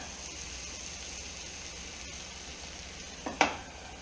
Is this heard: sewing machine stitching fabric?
no